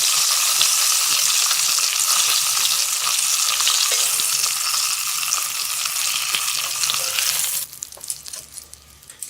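Sous vide pork chops sear in a hot pan with a loud, dense, continuous sizzle that drops off sharply near the end, leaving faint clinks and quieter crackle.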